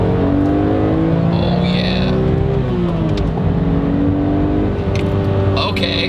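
A BMW sports car engine revs up hard in second gear to 8,000 rpm, climbing steadily in pitch, loud and close, then drops as the gear tops out, with a faint whine above the roar.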